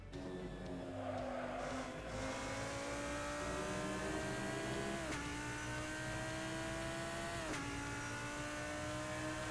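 GT3 race car in Assetto Corsa at Spa-Francorchamps, engine droning loud and steady with rising pitch as it pulls, then sharp drops at two quick downshifts into fourth gear.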